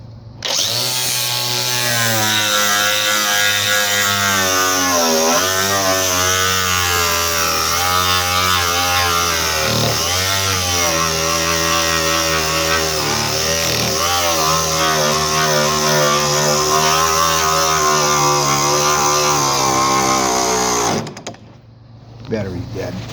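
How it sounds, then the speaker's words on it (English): An angle grinder fitted with a flap wheel grinds metal on a grain drying and storage bin, a loud, continuous high whine with wavering pitch running for about twenty seconds before cutting off, while someone talks over it. "the other option is an angle grinder with the flap wheel on it"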